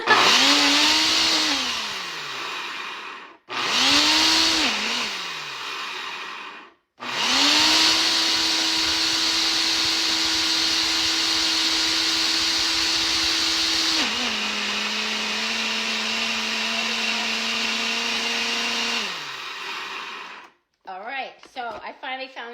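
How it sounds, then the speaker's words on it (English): A loud blender blending frozen cherries whirs in two short bursts, then runs for a long stretch with a high steady whine that shifts pitch, ending with brief clattering. "Blend it up. You could use a food processor, you could use a blender."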